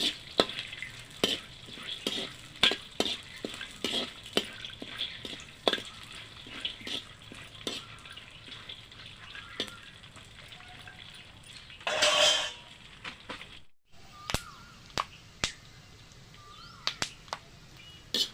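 Peanuts being stirred and dry-roasted in a pan for a Telugu puffed-rice snack mix, with a soft steady sizzle punctuated by repeated sharp scraping and clinking strokes of the spoon, plus a brief louder rustle midway.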